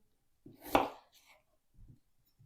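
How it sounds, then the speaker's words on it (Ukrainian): A couple of quick knife chops through potatoes on a cutting board, close by, with a sharp first stroke and softer taps after. "Дрібненько нарізаю картоплю"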